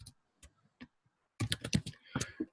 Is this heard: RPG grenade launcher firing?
no